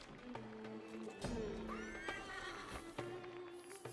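A horse neighs loudly as a knight falls in an Arthurian Legends of the Round Table video game, a long rising and falling whinny close by, mixed with hoof clip-clops and game sound effects.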